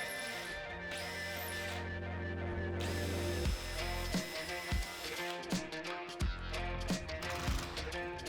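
A power drill whines steadily, then drills holes for door hardware through a drill guide in several short bursts with pauses between, close and loud.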